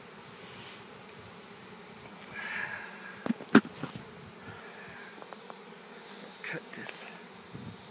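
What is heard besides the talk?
swarm of honey bees buzzing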